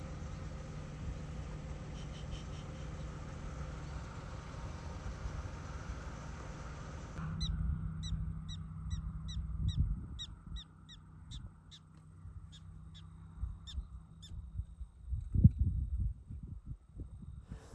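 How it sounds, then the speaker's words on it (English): A prairie dog in South Dakota's Wind Cave National Park gives a series of sharp, repeated chirping barks in quick succession, fairly faint and distant, following a stretch of steady engine-like rumble, with occasional handling bumps. "That chirping sound is a prairie dog bark."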